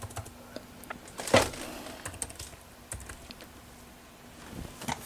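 A computer keyboard is typed on close by, giving light, irregular key taps with one louder clack partway through.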